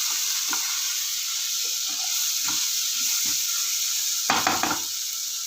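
Schezwan fried rice being stirred in a hot pan, a steady sizzle under scattered scraping and clinking of the spatula, with a louder burst of stirring near the end; no talking.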